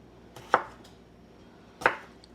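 Two crisp knife chops through potatoes on a cutting board, cutting them into bite-size pieces, spaced about a second apart and close by in a quiet kitchen.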